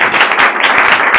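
Audience at a workshop launch for training doctors in Côte d'Ivoire applauds the health programme director, a brief burst of loud, dense clapping close by.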